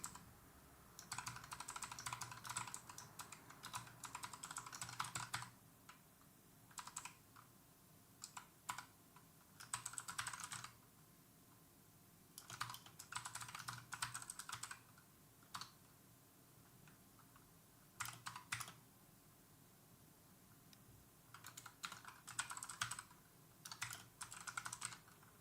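Rapid keystrokes on a computer keyboard during C++ programming, coming in clustered bursts of clicky typing separated by short pauses, fairly close and alone with no voice over it.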